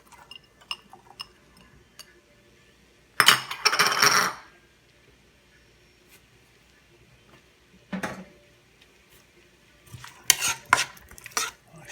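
Cut onion dumped from a board into a pan while cooking a hot and spicy veggie okra dish: a sudden clattering rush lasting about a second, then a short scrape and a few clinks of a utensil against the pan.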